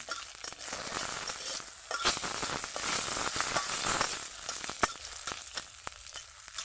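Black cumin, chilli and garlic sizzle and crackle in hot oil, a bright steady hiss with sharp pops and occasional stirring scrapes, fairly quiet and without talk.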